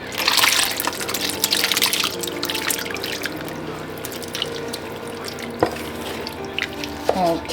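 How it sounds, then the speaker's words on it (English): A spoon stirs year-soaked fruit mix into Jamaican fruit cake batter, making continuous wet squelching and sloshing close by with a few sharper knocks near the end. "Alright, so gonna stir this in."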